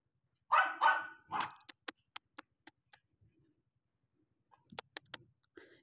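A playful dog lets out a few loud, rough barks, then a rapid string of sharp yips, and after a pause a second quick burst of yips, close by with no one talking.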